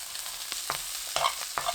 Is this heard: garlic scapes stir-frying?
yes